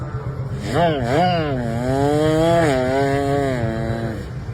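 A child mimics a vehicle engine with a continuous revving hum, pitch swooping up and down then holding steady, close and fairly loud, a single voice with no words.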